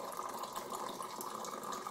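Hot water for tea poured from a height in a steady, splashing stream, continuous and fairly close throughout, with no talk over it.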